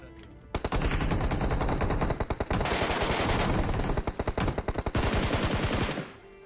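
Rapid automatic gunfire from a gun in a video game, long loud bursts of continuous shots with brief gaps, ending abruptly.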